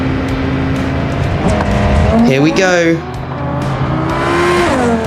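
A Gavril GD808 in the BeamNG driving game accelerates hard onto a highway, its engine revving up through the gears with a brief tire squeal, loud and close, while someone speaks excitedly over it.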